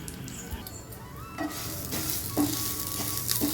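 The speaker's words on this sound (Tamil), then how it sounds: "நல்லா வாசனை வர்ற அளவுக்கு நல்லா ரோஸ்ட் பண்ணிக்கலாம்" Urad dal dry roasts in a pan, giving a soft continuous sizzle and rustle, with occasional sharp scraping clinks from a spoon stirring against the metal.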